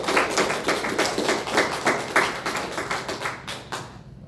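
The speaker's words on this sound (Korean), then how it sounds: "다시 한번 또 우리 하나님께 영광의 박수를 드리겠습니다" Church congregation clapping together during a Sunday worship service, a dense, steady round of applause with rhythmic claps near and loud, fading out at the end.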